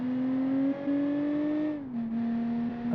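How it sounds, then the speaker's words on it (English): A drift car's engine revs steadily close by, a single held drone that climbs slowly, dips briefly, then settles again, heard alone with no talk. "So basically it's a drift car."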